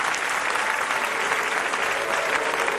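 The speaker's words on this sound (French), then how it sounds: "Quelques applaudissements, ça fait du bien." A steady burst of audience applause at a French evening event, thick continuous clapping from many hands, loud and close for the whole stretch with no voices on top.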